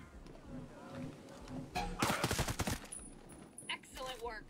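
A burst of rapid gunfire erupts in a video game, with several quick, punchy shots clustered over about half a second amid game ambience, while a voice talks around it.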